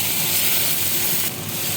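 Tomatoes hitting a pan of fried onions, giving a steady, dense sizzle that holds without pause, close and fairly loud.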